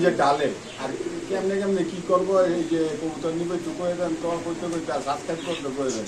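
Pakistani Giribaz pigeons coo continuously at the Khilgaon Meradia pigeon market in Dhaka, their layered, throaty rolling calls overlapping close by, with faint voices in the background.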